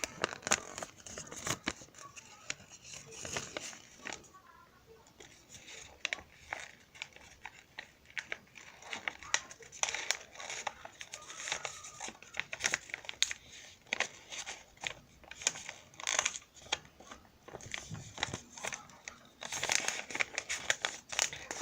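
Colored paper is folded and creased with a fingernail, producing continuous close crinkling and rustling with sharp little scrapes and presses, busy and uneven for the whole stretch.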